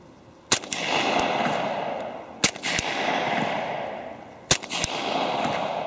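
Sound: suppressed Glock 30 .45 shots, Underwood 230 grain FMJ

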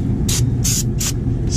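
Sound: brake cleaner spray on rotor

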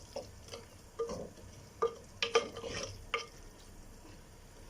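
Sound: stirring garlic and tomatoes in a pot

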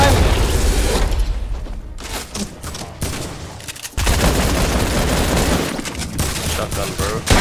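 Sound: gunfire in the video game Fortnite

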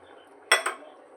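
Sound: shrimp added to sambar pot and stirred

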